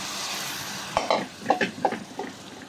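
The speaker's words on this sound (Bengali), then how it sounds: "আমি এখন কচুর বই ঢেলে দিলাম।" Taro stems tipped into a frying pan with local shrimp, a low sizzle followed by a quick run of clattering, splattering bursts as they land and settle.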